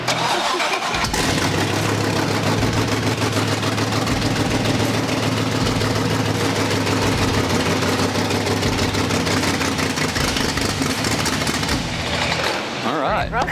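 A Mustang RestoMod's engine cranks and catches, then settles into a loud, steady, throaty idle that runs close and continuous before cutting off near the end, with people talking faintly underneath.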